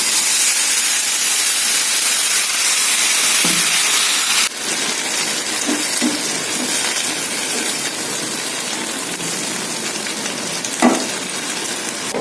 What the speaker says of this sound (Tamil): கொஞ்சமாக தண்ணி ஊற்றலாம்